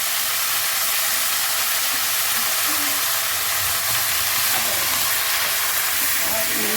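Spinach and whole chilli go into a hot pan, raising a loud, continuous hiss of sizzling that stays steady and close throughout.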